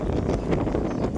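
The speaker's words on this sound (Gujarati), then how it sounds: "પવન સરસ મજાનો વાય છે ભાઈ ટાઢો પવન" Cool wind blowing outdoors in a village, a steady loud rush and buffeting against the microphone throughout the short stretch.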